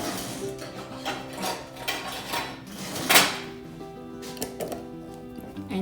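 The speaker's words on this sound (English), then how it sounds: "Now, we put a lid on it." A lid set on a glass jar of water kefir and orange juice and screwed tight: close clinks and scraping twists, with one sharp clack partway through, over a faint steady hum.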